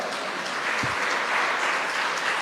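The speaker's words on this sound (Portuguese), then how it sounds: "Um aplauso para ele que ele merece." Church congregation applauding, a steady wash of clapping at moderate distance with no clear speech over it.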